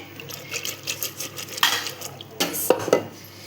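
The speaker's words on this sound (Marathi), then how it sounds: "आपल्याला जरा कुकर हलवून घेऊया" Metal clanks and rattles in a few short bursts as a pressure cooker holding water and bottle gourd is shaken, with a sloshing clink of liquid inside; quiet between the jolts.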